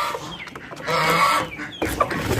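Chickens and a rooster cluck and squawk inside a cage, close and fairly loud, in a quick, uneven series of calls with short pauses and no talking.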